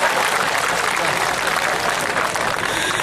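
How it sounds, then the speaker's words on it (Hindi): A crowd at a live comedy show claps together in a dense, steady burst that fills the room, loud and continuous throughout. "ताली बजाओ वरना डांस करके दिखाऊंगा।"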